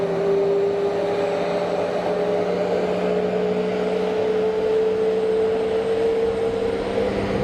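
Jet airliner engine spooling up at Geneva Airport, a steady loud whine with a slowly rising tone over a constant broad roar, continuous throughout.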